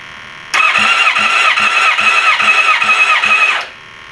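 Motorcycle engine being cranked by its starter during a cylinder compression test in a shop, a loud steady whirring drone with about seven regular compression pulses over three seconds, then stopping.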